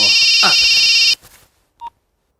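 A telephone rings loudly in a Telugu action film scene. One sustained electronic ring cuts off abruptly, then a short faint beep follows in near silence.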